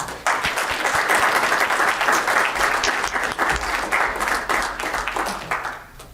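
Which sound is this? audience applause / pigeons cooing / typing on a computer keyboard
audience applause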